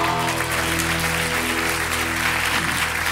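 A studio audience applauds at a comedy show, steady loud clapping for about three seconds over a low background hum.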